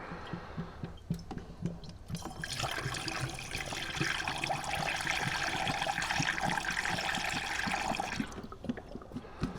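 Coolant poured slowly into the cooling system of a 2018 GMC Terrain: a steady glugging trickle of liquid that starts after about two seconds, runs continuously for around six seconds, then stops, close up with no talking.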